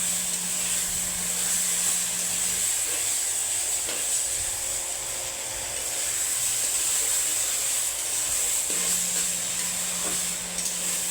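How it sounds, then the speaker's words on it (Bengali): Rice being stirred in a frying pan with ginger while cooking khichuri: a continuous soft sizzle and hiss with faint scraping of the stirring, no talk over it. "চালটা দেবো আর এভাবে নাড়া দেবো।"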